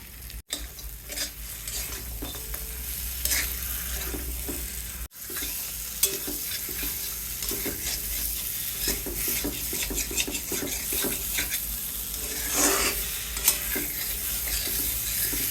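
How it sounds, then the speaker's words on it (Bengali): Potatoes sautéed in spice masala in a pan, a steady sizzle with stirring scrapes and occasional utensil clinks against the pan, continuous and close. "মশলাটার সাথে আলু দু মিনিট কষিয়ে দিন"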